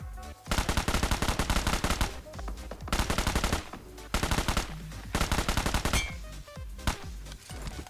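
Gunfire in the battle-royale game PUBG Mobile comes as loud, rapid automatic bursts, several rattling volleys separated by brief pauses, followed by a few scattered single shots.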